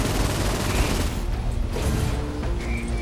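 Dense gunfire rattles through a Saints Row 4 game session, rapid overlapping shots and booms filling the mix loudly and continuously, easing slightly toward the end.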